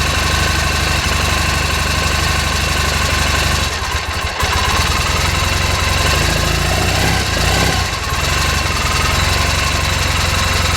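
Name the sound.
2001 Triumph Bonneville motorcycle engine idling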